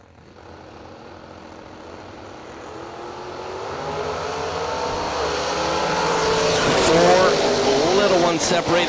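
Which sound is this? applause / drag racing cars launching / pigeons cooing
drag racing cars launching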